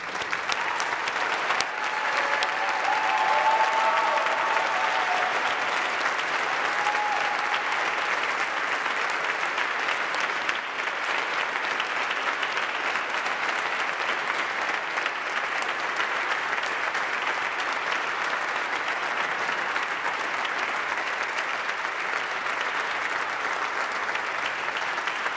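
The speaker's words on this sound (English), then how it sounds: "please rise and join me in giving our new officers one final round of applause." A standing audience at an Air Force ROTC commissioning ceremony gives new officers a long, steady round of applause, dense and even from start to finish with no speech.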